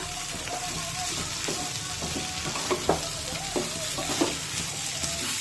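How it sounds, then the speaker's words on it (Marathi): Okra coated in gram flour and spices sautéing in oil in a kadhai makes a steady sizzle, broken by sharp scraping clicks of a spatula stirring every second or so, close and with no talking. "आता 2 ते 3 मिनिटे भेंडी तेलामध्ये छानपैकी परतून झाल्यानंतर"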